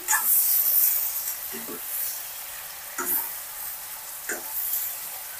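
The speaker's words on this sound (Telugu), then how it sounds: "ఒక్కసారి టమోటాలు కూడా బాగా మగ్గే వరకు ఫ్రై చేసుకోవాలి." Finely chopped tomatoes fry in a pan for brinjal dal, a soft steady sizzle with a louder hiss at the start and several short bursts as the spoon stirs the mixture.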